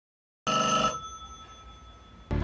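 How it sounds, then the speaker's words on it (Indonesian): A manual telephone exchange bell rings loudly and metallically for about half a second after silence, then its tone rings on and slowly fades before a second ring starts abruptly at the end. "Bel di sentral telepon kemudian berbunyi"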